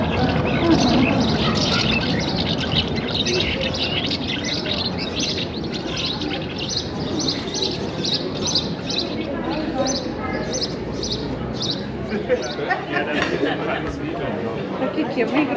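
Many small birds chirp and twitter continuously in a historic French town, Kaysersberg, a busy bright chorus in the open air with people talking over it throughout.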